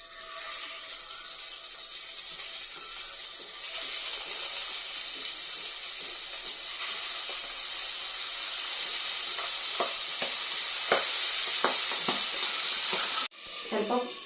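Stuffed squid, Kerala style, frying in hot coconut oil with a continuous loud sizzling hiss, joined later by sharp pops and crackles as the pieces spit, close up.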